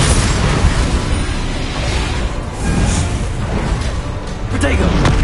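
Bombarda spell blasts from the video game Hogwarts Legacy, with a dense, continuous rumble of booming explosions and bursts running throughout. It is loud and close, with a brief dip midway, and a voice speaks over it.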